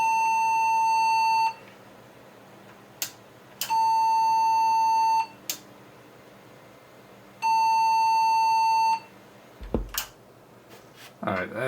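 Three long, loud, steady beeps repeat with short gaps from a newly built Windows Me PC at power-on, likely a RAM fault, followed by a few clicks and a short voice at the end.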